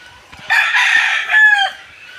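A rooster crows once, loud and close, a drawn-out rising then falling call of about a second, with quiet surroundings before and after.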